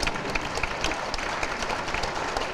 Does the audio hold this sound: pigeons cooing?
no